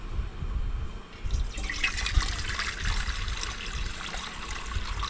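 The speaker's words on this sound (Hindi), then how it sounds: "अब मैं इसमें पानी डालूंगी।" Water pours steadily into a cooking pot set on a gas stove for sugar syrup, a continuous splashing hiss starting after a brief pause and running to the end.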